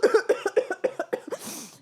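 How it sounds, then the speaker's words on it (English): A chronic hacking cough, voiced by a man, comes as a rapid run of about eight harsh, close coughs ending in a breathy exhale. "I've got a chronic hacking cough."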